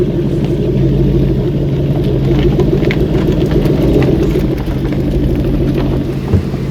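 An Aston Martin Vantage GT8 with a warm engine rumbles steadily and loudly at close range as it moves off on a sunny day, its low drone constant throughout.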